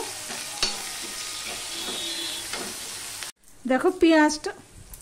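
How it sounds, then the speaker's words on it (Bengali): Chopped onions frying in a pan for a Bengali drumstick dish, a close sizzle with clinks of stirring that cuts off abruptly and gives way to brief louder tonal sounds near the end. "পেঁয়াজটা লাল লাল করে ভেজে নেব।"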